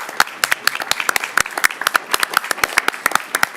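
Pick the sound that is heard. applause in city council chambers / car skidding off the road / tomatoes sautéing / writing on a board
applause in city council chambers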